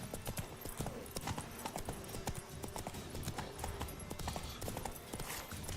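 Roach, the horse in The Witcher 3 video game, gallops with quick, sharp hoofbeats in a steady clip-clop rhythm over a dense bed of game sound, fairly quiet throughout.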